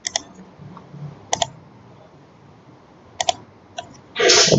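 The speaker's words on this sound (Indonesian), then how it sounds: "terlebih dahulu mengetik Poltekpel pada Google Search" Keystrokes on a computer keyboard while a search term is entered, heard as a few short, sparse clusters of crisp clicks over a quiet room hiss, ending in a louder burst of rapid clatter.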